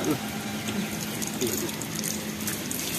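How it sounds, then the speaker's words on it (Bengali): A watermelon is washed under cold running water, the tap rushing steadily and close while a voice speaks over it. "এই যে তরমুজটাকে এখন একটু ধুয়ে নিচ্ছি ভালো করে। ঠান্ডা জল"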